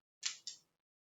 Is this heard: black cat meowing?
no